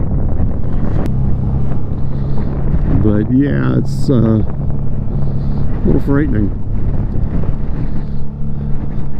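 Strong wind buffeting the microphone on a motorcycle riding up Pikes Peak, a constant rumble with the engine beneath, while a person speaks briefly over it.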